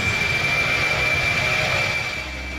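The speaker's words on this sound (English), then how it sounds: "Jumbo jet, a colloquial term for large commercial airliners like the Boeing 747." Jet engine of a large commercial jumbo jet airliner such as the Boeing 747, heard as a steady, loud roaring whine with a high tonal hum held throughout, easing slightly near the end.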